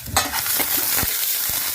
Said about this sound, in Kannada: ಈರುಳ್ಳಿ, ಸ್ವಲ್ಪ ಕರ್ಬೇವಿನ ಸೊಪ್ಪು, ಜೀರಿಗೆ, ಸಾಸಿವೆ ಎಲ್ಲ ಒಗ್ಗರಣೆ ಮಾಡಿಬಿಟ್ಟು